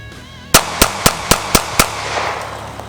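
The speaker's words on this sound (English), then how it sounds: "dump the rest of the mag into the target, see if it gives any malfunctions" A Ruger Security 9 pistol is fired with steel case ammo in a quick string of six sharp, loud shots at a steady rhythm, followed by a fading echo at an outdoor range.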